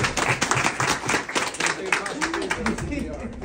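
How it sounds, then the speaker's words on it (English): A crowd at a store gives a round of applause for Carlos, dense irregular clapping with cheers and voices mixed in, sustained and fairly close. "One more big round of applause for Carlos."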